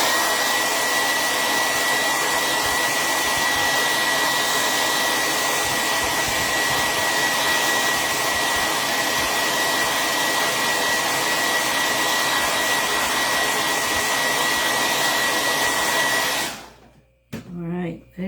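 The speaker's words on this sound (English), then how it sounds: "Okay, so I'm going to dry that." A dryer blows hot air over a waxed craft project in a loud, constant, close whoosh for about sixteen seconds, then cuts off abruptly into near silence with a brief rustle.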